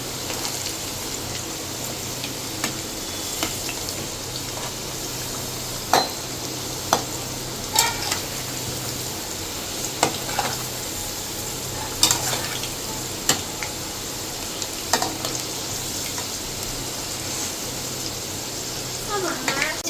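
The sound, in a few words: potatoes frying in a pan for mutton curry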